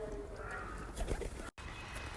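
Pigeons near a bridge in Kyoto give a few soft, low coos against outdoor background noise, fairly close, and the sound breaks off briefly just before the end.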